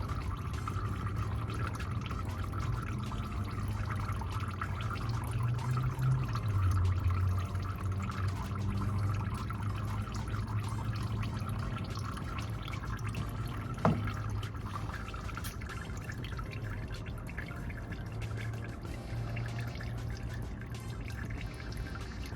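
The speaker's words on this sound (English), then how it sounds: "I'm letting this oil drain out before I take that housing off completely." Engine oil drains from a Toyota Sequoia TRD Pro or Tundra during an oil change, a steady low liquid pour running continuously under a faint background hum, with one brief clank partway through.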